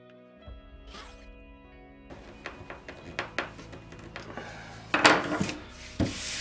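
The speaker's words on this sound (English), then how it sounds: "I'm just taking the sanding block and make sure I don't have any burrs sticking up from the wood." A sanding block rubs across a wooden cross-cut sled to remove burrs, giving a series of short scraping strokes, quiet and close, that grow louder toward the end.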